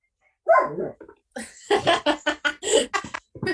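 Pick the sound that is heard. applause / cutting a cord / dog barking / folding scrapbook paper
dog barking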